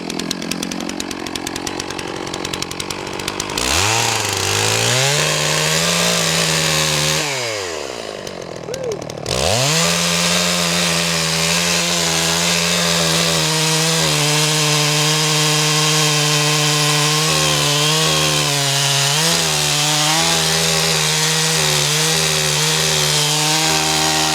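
Chainsaw cutting through a large fallen oak, running loud and close almost throughout, with a brief drop to idle then revving back up into a steady cut.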